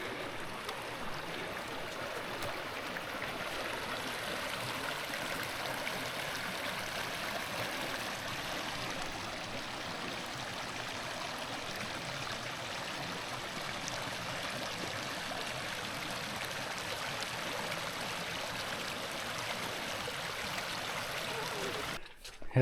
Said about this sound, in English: it's a proper river crossing